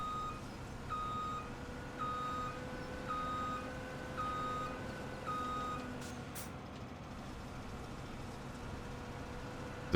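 A farm vehicle in the Farming Simulator 17 game backs up with steady, evenly spaced reversing beeps over a continuous low engine hum. The beeps are moderate in level, and no voices are heard.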